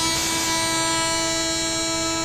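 A train standing at a station, a steady loud tonal horn-like drone with rumbling rail noise holding for a couple of seconds without a break, no speech over it.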